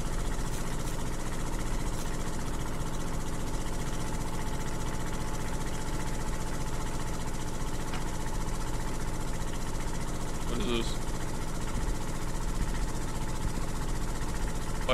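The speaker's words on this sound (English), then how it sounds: "I started a generator" A generator in the VR game Shattered Lights runs with a steady, continuous mechanical drone and low rumbling hum that holds unchanged throughout, moderately loud and close, with no voices.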